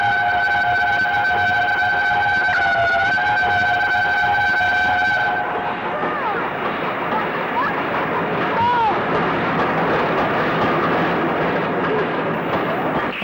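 LNER A4 Pacific steam locomotive 60019 Bittern departs, its sustained whistle sounding loud for several seconds before giving way to a broad rushing rumble of the train moving off.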